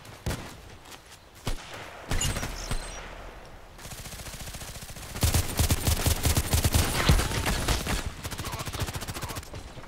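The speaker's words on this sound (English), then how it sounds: "Who's shooting at me?" Automatic gunfire in the video game Contract Wars, sharp rapid bursts that start off sparse and build into dense, sustained volleys, loud and close, mixed with game effects and no clear talk.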